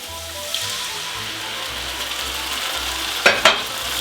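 Tomato sauce goes into a hot pan of sweated, lightly browned ingredients for tuna pasta, giving a steady low sizzle with a couple of sharp scraping clatters near the end.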